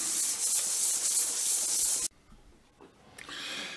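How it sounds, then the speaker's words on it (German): Cork discs are sanded flat by hand for an NSU Quick 52, a loud close rasping rub for about two seconds, a brief pause, then softer scraping strokes resuming. "diese Korken zu teilen, einzufügen und dann auch von Hand ganz einfach plan zu schleifen"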